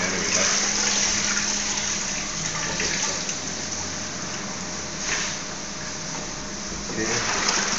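Water gushes and splashes steadily while spring oak leaves are washed in a tank, a loud continuous wash with occasional surges.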